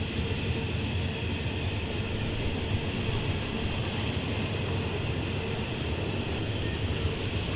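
An eastbound freight train rumbles past on a rail camera feed as a steady, dense roar that holds at an even level throughout with no voices.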